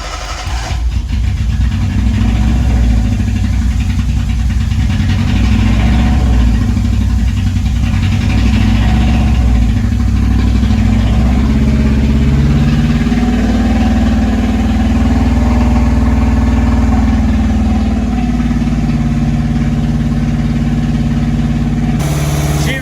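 A Datsun Sunny Truck engine runs loud and close after starting, settling into a rough, steady idle with some throttle variation along the way.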